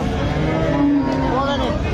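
A large Friesian dairy cow moos loudly and close by, giving one long, full low call that rises and falls and fills the whole moment.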